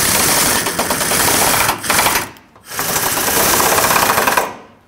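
Bolts being fitted while a radiator goes back into a 2008-2010 Ford F-250: a loud, continuous rapid mechanical rattling, like a power tool running, with two short pauses near the middle before cutting off at the end.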